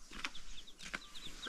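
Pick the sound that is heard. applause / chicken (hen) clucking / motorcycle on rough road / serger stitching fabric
chicken (hen) clucking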